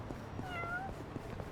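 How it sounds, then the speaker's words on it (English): A single cat meowing in the Yakuza: Like a Dragon video game, a short clear rising-and-falling meow heard over quiet game background noise. "I heard a cat. Who did that? Who meowed?"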